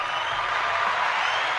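A studio audience at a comedy talk show breaks into steady, moderately distant applause with a few cheers, an even wash of clapping lasting the whole moment without talk.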